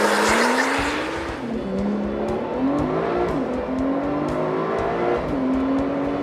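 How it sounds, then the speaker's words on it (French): A 2015 Porsche 911 Turbo S (type 991) launches under launch control at full throttle, its engine note rising loudly through successive gear changes with brief tire noise at the start, close and continuous, no talk. "vous n'avez plus qu'à accélérer pied au plancher et la voiture vous catapulte à une vitesse"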